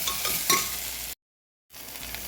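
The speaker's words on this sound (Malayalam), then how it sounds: "ഇനിയിപ്പോൾ നമുക്ക് കിഴങ്ങ് വറ എന്ന് പറയാം." Potatoes frying with mustard seeds in a home kitchen pan give a soft, continuous sizzle with a light stirring scrape early on. The sound cuts out completely for about half a second, then the quieter frying resumes.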